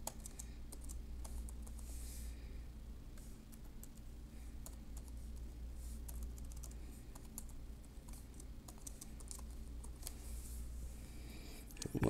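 Login details typed on a computer keyboard during setup of an Ubuntu Server virtual machine, a quiet, close stream of rapid key taps with short pauses over a low background hum.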